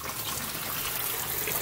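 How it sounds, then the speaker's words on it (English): A continuous hissing gush of water squirts out of a leaking boiler, close and steady throughout with no voices. "The water squirting right out of the boiler."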